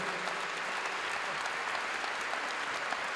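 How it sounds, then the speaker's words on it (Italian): An audience at a basketball team presentation, Fulgor Libertas Forlì, applauds player Michele Antonutti with continuous, even clapping that fills the hall without breaks. "Sì, l'applauso per lui."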